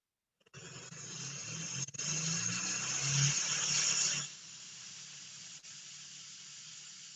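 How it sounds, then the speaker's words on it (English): A non-electrostatic disinfectant sprayer hisses in a steady, loud burst for about four seconds, then cuts off and leaves a quieter background. "this is the result of spraying with the non-electrostatic sprayer"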